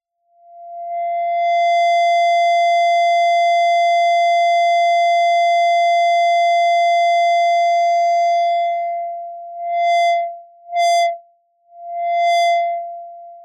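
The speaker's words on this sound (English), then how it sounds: "Now we put a filter in between. So, oscillator filter output." A modular synth oscillator routed through a filter in VCV Rack sounds a loud, steady pure tone that holds for several seconds, then breaks into short pulsing bursts as the filter changes, with no talk.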